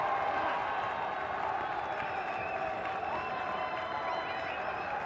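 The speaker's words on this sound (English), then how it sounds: "Well, they're all out there applauding him." Test cricket crowd at Rawalpindi applauding a batsman's innings, a steady wash of distant clapping and murmur from the stands, fairly faint and continuous throughout.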